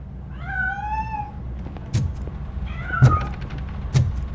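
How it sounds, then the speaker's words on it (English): A cat in RoboCop: Rogue City meows twice, a drawn-out cry and then a shorter one, over a low ambient hum. Several dull knocks and thuds sound close by. "That cat must be hiding inside."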